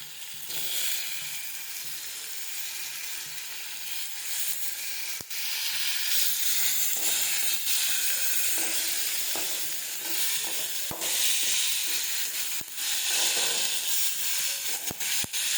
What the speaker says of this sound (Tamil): தக்காளியும் நல்லா வதங்கிடுச்சு